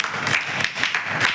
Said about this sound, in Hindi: जोरदार तालियां भाई अभिषेक के लिए।